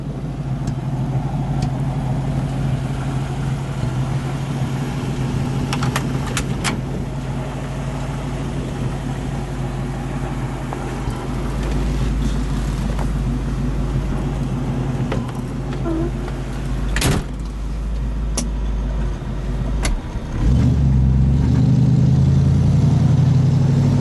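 A 1967 Ford Mustang engine idles with a deep steady rumble close by, a few brief sharper rises partway through, and a louder rev near the end.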